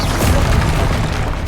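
A Bombarda spell blast in Hogwarts Legacy erupts as a loud, booming explosion with a deep rumbling roar that sustains across the moment without any talk.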